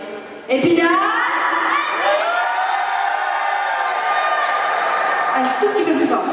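A large audience at a Halloween wrestling show in Épinal, France yells together in one loud, sustained shout that lasts several seconds, with no talk over it.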